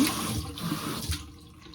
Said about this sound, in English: I'm filming next to the sink for this reason. All you need to do is go ahead and add some water